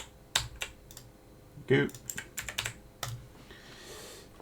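Quick bursts of keystrokes on a computer keyboard, loud and close, with scattered clicks and a louder cluster in the middle. Someone speaks briefly over the typing.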